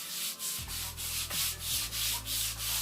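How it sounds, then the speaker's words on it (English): A broom scrubs a basement floor treated with bleach in steady back-and-forth strokes, each a rough swishing rub at close range, over a low steady machine hum. "I'm going to scrub the floor with my broom"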